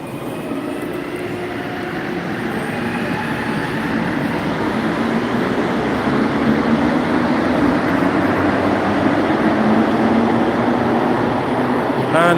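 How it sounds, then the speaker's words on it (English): A metro train pulls out of a station, a loud continuous rumble and roar that builds slightly and holds steady, heard up close from the platform, with a bright squeal rising near the end. "And that was our train that we just missed."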